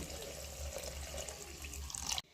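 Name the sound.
water poured into pan of cooked spices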